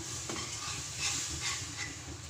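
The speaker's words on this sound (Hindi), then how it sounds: "अब इसमें ऐड करेंगे चाशनी और इसको अच्छे से मिक्स करेंगे" Wheat flour laddu mixture stirred with sugar syrup in a pan over low heat gives soft, continuous scraping and faint sizzling, with a few louder strokes.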